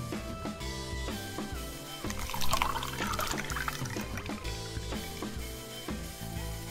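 Beer pours into a mug at a home drinking session, a continuous liquid gurgle and trickle that swells midway as the mug fills, close and clear over a low background, with no talking.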